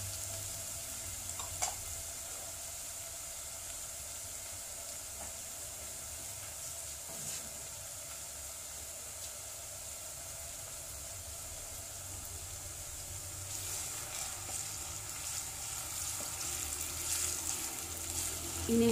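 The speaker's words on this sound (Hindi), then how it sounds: "इन्हें हल्का गोल्डन होने तक हम फ्राई करेंगे।" Green chili paste frying in a pan for white chicken karahi gives a steady, close sizzle and hiss that runs unbroken, with faint stirring scrapes and no speech.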